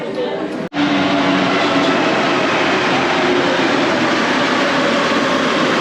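A metro train at a busy station near the Zócalo in Mexico City gives a loud, steady rumble and rolling roar that carries on throughout, with crowd murmur and voices mixed in beneath it.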